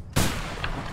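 A burst of gunfire in the video game A Way Out, fired up a stairwell: a sharp loud shot onset followed by a sustained, rumbling tail with a faint second crack later, no talking.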